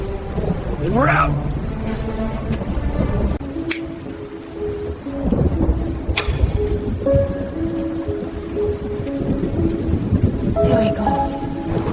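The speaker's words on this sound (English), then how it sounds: "Storm's right on top of us." Thunderstorm on a mountain with heavy rain and rumbling thunder, a steady loud wash of rain with sharp cracks and low rumbles while people speak over it.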